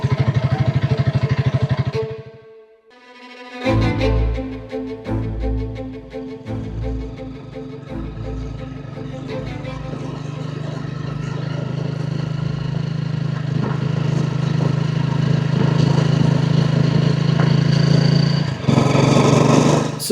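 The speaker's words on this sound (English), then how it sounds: "The bike I'm riding today belongs to my brother, and it's a Honda 300 Rally." A Honda CRF 300 Rally motorcycle engine revs up after a brief quiet gap and then holds a loud, steady drone close by, with rising throttle and rattling clatter, ending in a sharp burst of engine noise.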